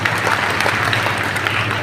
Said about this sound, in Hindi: जोरदार ताली अपने लिए।